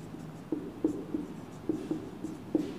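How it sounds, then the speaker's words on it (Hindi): Chalk tapping and scraping on a blackboard during a Hindi science lesson on light, written in short irregular strokes and taps, fairly quiet against a faint room hush, with no talking. "चलो लैंग्वेज लिखते हैं एक बार"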